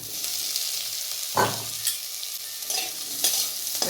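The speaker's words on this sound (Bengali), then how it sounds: "এবারে দিয়ে দিচ্ছি আলুটা।" Potato pieces added to lightly fried onion sizzle steadily in a pan, with a few sharp scraping stirs of a utensil breaking through the continuous frying hiss.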